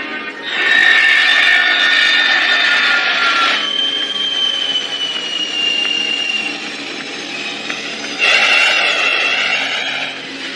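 China Airlines airliner making an emergency landing in the Amazon forest, its jet engines giving a loud, steady high-pitched whine that eases midway and then surges again near the end, with no voices.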